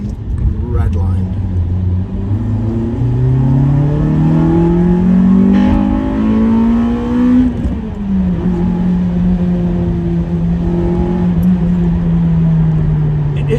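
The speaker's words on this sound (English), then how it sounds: "This car enjoys getting redlined." Honda VTEC car engine revving hard toward redline, its pitch climbing steadily and loud up close, then holding a high sustained drone after the cam crossover, with people talking quietly beneath.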